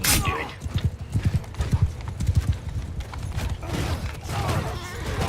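Horse hooves clip-clop at a gallop in the medieval combat game Mount and Blade II: Bannerlord, a steady run of close, loud thuds with a creak, fading into a rougher rumble of movement.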